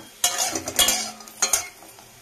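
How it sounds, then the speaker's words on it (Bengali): Bori, Bengali lentil dumplings, frying in oil in a wok as a spatula stirs them, with bursts of sizzle and scraping strokes about every half second, close and fairly loud, no talking. "তো কড়াইয়ে একটু তেল দিয়ে প্রথমে বড়িটাকে ভালো করে ভেজে নেব"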